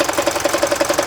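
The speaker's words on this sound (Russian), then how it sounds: "И вот на них частенько бывает такая неисправность, как грохот идет с топливного насоса." A Mercedes 601 engine with weak timing chain tension idles with a rapid, even metallic knocking, loud and close, repeating steadily with no voices.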